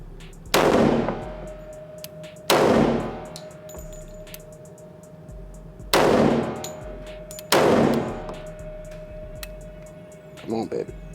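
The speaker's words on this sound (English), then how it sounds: "We're gonna aim up a little bit so we can shoot and hit that 9." Four loud, close gunshots from an FN 510 Tactical 10mm pistol at a shooting range, each a sharp blast with a ringing tail, spaced a few seconds apart, with faint metallic clinks at the end.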